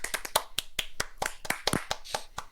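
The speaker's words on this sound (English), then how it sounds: "Can we get a round of applause, please, everybody?" Scattered hand claps from a small group, a quick irregular burst of sharp slaps at close range with no talking over them.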